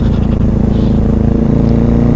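A motorcycle being ridden on a road in Japan, its engine holding a steady, close, low drone with a continuous hum of wind and motion and no pauses.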